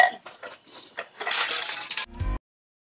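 Dishes, pots and metal utensils clatter and clink while being washed at home, a busy close run of scraping and knocking that stops abruptly near the end.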